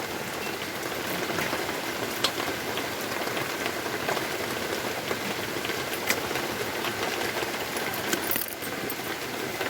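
Steady rain falling and pattering on surfaces, a constant hiss with scattered sharper drips, a low engine hum faintly underneath.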